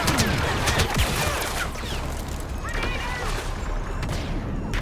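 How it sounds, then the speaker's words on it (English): Pulse cannon and blaster fire in Star Wars Battlefront come as dense, rapid bursts of gunfire and crashes in a loud battle on the Sorosuub Centroplex, with a player talking over it. "And then I get hit by a pulse cannon."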